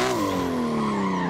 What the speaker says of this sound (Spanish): Hacer drift con estos coches así.